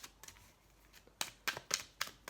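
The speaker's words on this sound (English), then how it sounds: "Feel the need to shuffle a couple more times here." Tarot cards are shuffled by hand in a quiet room, giving a few soft, quick riffling bursts that grow more distinct toward the end.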